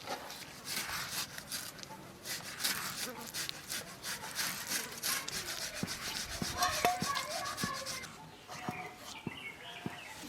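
Chili paste is ground by hand on a stone, giving a steady close scraping and rubbing rhythm of stone on stone that runs for about ten seconds, with faint bird calls in the background.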